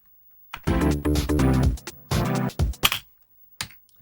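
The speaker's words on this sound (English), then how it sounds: "sounds like an unfinished house track that's probably never going to get finished." A short burst of unfinished house music with layered synth chords, stopping and restarting in choppy fragments before cutting out, then a couple of faint blips.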